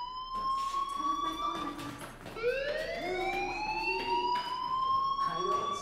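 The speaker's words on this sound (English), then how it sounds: "Hey, do you hear that fire alarm?" A school fire alarm in the Life is Strange video game sounds as a loud, wavering electronic tone that keeps rising in pitch. Faint game ambience runs underneath, with no talking.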